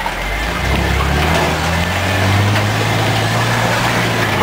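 Chevrolet S10 pickup truck pushing through a mud hole, its engine droning close and loud, then climbing in pitch as it revs harder mid-way before holding steady.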